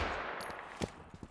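Gunfire effects in a first-person shooter game, with bullet impacts on concrete and barrel blasts. A few sharp bursts stand out over a steady noisy bed, ending with several quick close cracks.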